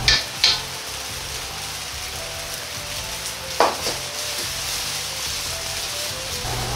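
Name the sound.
yakisoba noodles frying in a pan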